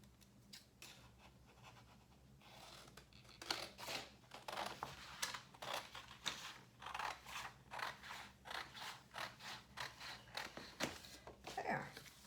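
Scissors snip through fabric in a quick run of crisp, close cuts, irregular at first and then steady and rhythmic, with no talking.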